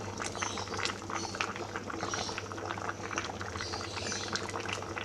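Asam padeh sauce with eggplant boiling in a pot, a steady close bubbling and gurgling simmer with dense popping, continuous and even throughout, no voices.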